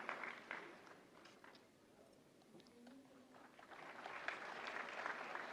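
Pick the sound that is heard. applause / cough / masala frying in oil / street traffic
applause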